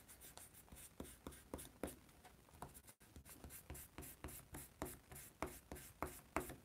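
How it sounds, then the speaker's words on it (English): A kneaded art gum eraser scrubs graphite off paper in quick, steady strokes, each rub a soft scratchy swipe repeating rhythmically at close range with no talking. "I'm using the kneaded art gum eraser. Got a lot of graphite on here I need to pull off of the"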